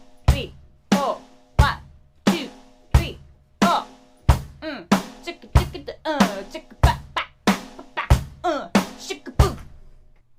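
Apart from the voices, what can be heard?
drum kit beat: kick, snare, hi-hat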